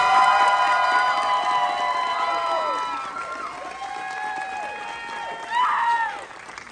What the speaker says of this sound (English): I need a huge round of applause for her.